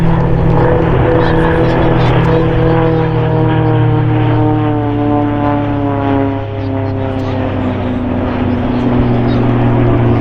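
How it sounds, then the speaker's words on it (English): A C-130 Hercules known as Fat Albert flies in formation with an aerobatic plane at an air show, a loud, steady propeller drone with a shifting pitch sweep as the pair passes close by, under continuous commentary. "In formation, the C-130 Hercules from the United States Navy Blue Angels, and also Rob Holland in a formation flyby coming from the right."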